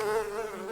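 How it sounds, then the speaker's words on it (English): A bee loose in a podcast studio buzzes close by in one brief, steady drone that wavers slightly in pitch. "Now it seems that the bee is loose in the studio."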